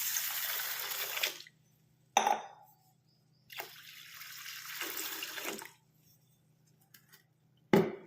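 Water is poured over about three-quarters of a bowl of hulled moong dal to soak it, in several close splashing bursts with quiet pauses between them and no talking.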